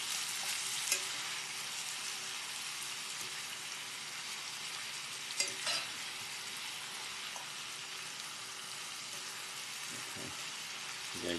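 Shrimp with mango fry in oil in a cast iron pan, giving a soft, steady sizzle with a couple of faint utensil clinks midway.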